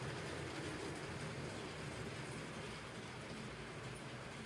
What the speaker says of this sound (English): The Maersk is such a great train, and nice to have a lot of different cars that it's pulling there.